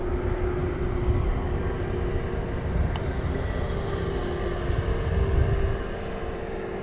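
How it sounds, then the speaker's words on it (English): Airliner taxiing at Dublin Airport, a steady low engine rumble and hum heard at a distance, continuous and even throughout with no voices. "Emirates also starting to taxi too."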